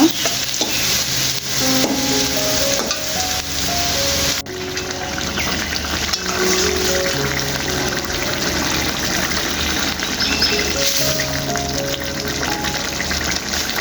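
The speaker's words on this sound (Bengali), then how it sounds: "এখানে বেশি করে পেঁয়াজ আর রসুন কাঁচামরিচ ভেজে নিতেছি তেলের মধ্যে" Onion, garlic and green chillies fry in plenty of oil as a loud, continuous hiss and sizzle with occasional stirring, while a soft melodic tune plays faintly underneath throughout.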